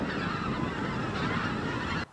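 Honking, cawing calls from a large flock of rooks gathering over a city at dusk form a dense continuous chorus that cuts off abruptly at the end.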